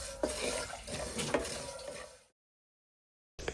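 Carom seeds, coriander seeds and black peppercorns dry roasting in a pan, a soft continuous rustle with light scraping stirs and clinks, quiet and close, stopping abruptly before resuming briefly.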